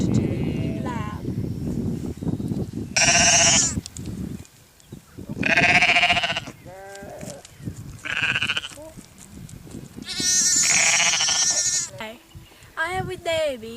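Ewes bleating in a lambing field, several loud, close, wavering cries in bursts several seconds apart, with people talking and breathy handling noise between them.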